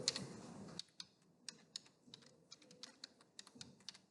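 Quiet, steady keystrokes on a computer keyboard during network switch configuration work, clicking in an irregular rhythm of single taps and short bursts, close and alone with no talking.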